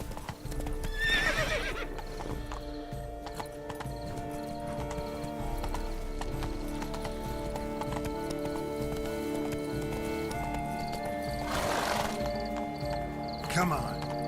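Horse hooves clip-clop steadily in the video game The Witcher 3: Blood & Wine, with a horse neighing several times over a layer of game music and ambience.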